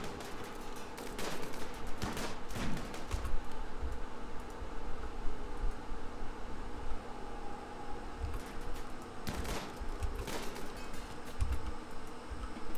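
Rapid bursts of gunfire ring out as colonists shoot at a ship in the colony-building game Rimworld, with volleys clustering at the start and again near the end over a steady background drone.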